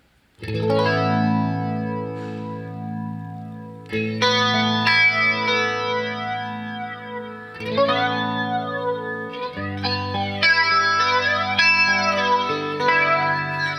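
Sustained electric guitar chords ring through a TC Electronic 2290 delay unit, with a sweeping, swirling flanger-like shimmer on the delayed tail. Loud and washy, no voices.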